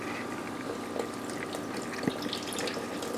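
Tumbled crystals sitting in a small sifter get rinsed under running water, a steady splashing flow close by with a few soft knocks as the stones shift.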